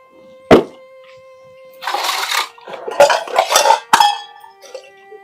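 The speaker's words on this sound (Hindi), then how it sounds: "पहले ये बर्तन धो लूं" Dishes, pots and pans being washed by hand in a home kitchen, with a sharp clank followed by bursts of rinsing water and clattering metal utensils that rise and fall over several seconds.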